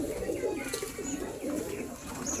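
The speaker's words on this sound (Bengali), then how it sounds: "দেখছেন অসংখ্য কবুতর নিচে খাচ্ছে" Pigeons coo at a pigeon farm in Kushtia, with soft overlapping low coos repeating throughout and a few faint chirps, fairly quiet in the background.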